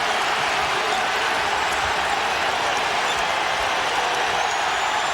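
A packed basketball arena crowd roars steadily and loudly throughout a tense 1997 Kansas versus UConn game, a dense continuous wash of cheering without a break.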